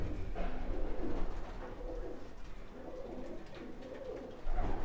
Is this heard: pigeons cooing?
yes